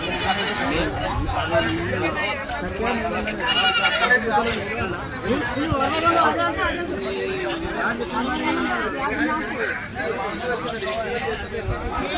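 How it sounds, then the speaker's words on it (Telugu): Many goats bleat over and over amid a busy crowd of chattering voices at a village goat and sheep market in Chilpur Gutta, a dense, noisy market din with bleats rising above the talk. "సో చాలా మేకలు వచ్చినాయి, మేకపోతులు మేకలు ఎక్కువ వచ్చినాయి అనమాట గొర్రెల కన్నా"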